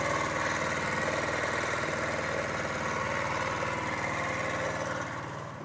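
A homemade generator built from an electric motor runs steadily with a fuel-driven engine hum and a rapid, even mechanical beat, loud and close, trailing off slightly at the end.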